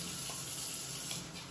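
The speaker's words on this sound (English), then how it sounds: "I'm gonna pour us a shot so I can get rejuvenated" Tequila poured into a shot glass makes a soft, steady splashing trickle for about a second and a half, fairly quiet and alone, easing off slightly toward the end.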